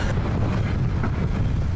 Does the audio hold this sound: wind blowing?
yes